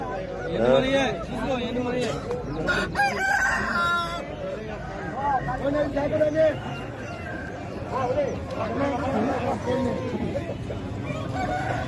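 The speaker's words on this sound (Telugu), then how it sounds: "కోళ్ళు అయితే చాలానే ఉన్నాయి" Roosters crow repeatedly and country chickens cluck amid a busy crowd at a weekly village poultry market in Nallapadu, with people talking and bustling throughout.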